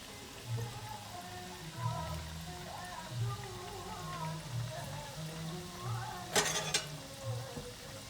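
Zalabia, Passover donut dough, frying in hot oil with a steady low crackle and bubbling sizzle, a brief brighter burst of spattering near the end, faint voices in the background.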